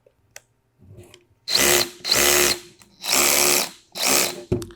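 A Ryobi ONE+ cordless ratchet whirs in four short bursts, switched between clockwise and counterclockwise, each run a loud close motor whine separated by brief pauses and faint handling clicks.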